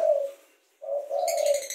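A ringneck or spotted dove coos nearby in a quiet setting, giving two low, soft hooting notes separated by a short pause, with faint higher chirps from other caged birds joining at the end.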